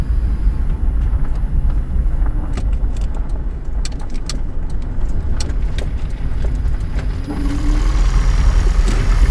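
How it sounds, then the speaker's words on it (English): A Gen 2 Toyota Prius hybrid driving around a residential block, its engine running with a steady low hum under road noise, joined by light jangling clicks from keys and small rattles inside the cabin. "You can see how the engine kicks on there."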